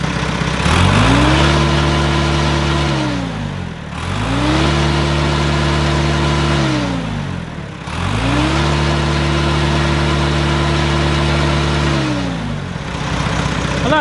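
An old JCB engine fitted with a chrome exhaust pipe revs hard three times in a row, each rise climbing and holding a loud droning pitch before dropping back briefly, close and alone.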